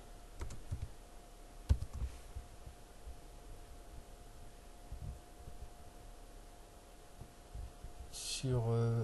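Sparse, quiet clicks of a computer keyboard while typing in a Windows Server settings window, a few scattered keystrokes over a low electrical hum, with a louder burst of sound at the end.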